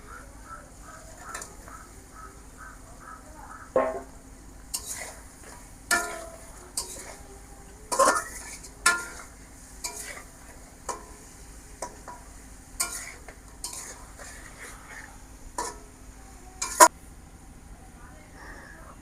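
Fried fish stirred into a ginger-cumin spice masala for a fish bhuna: intermittent sharp spatula knocks and scrapes come over a soft, steady sizzle.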